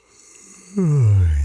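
A man's yawn, close and loud: a quiet stretch, then a sudden low voiced exhale that slides down in pitch and holds for about three quarters of a second.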